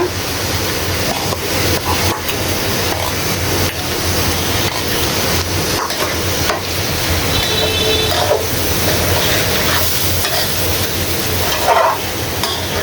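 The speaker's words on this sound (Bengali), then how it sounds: "এইভাবে নেড়ে চেড়ে চাউলটা ডালটা তেলের ভিতরে ভালো করে ভেজে নিতে হবে" Rice and lentils fry in oil with ginger and garlic paste, a loud, continuous sizzle with stirring scrapes running under it.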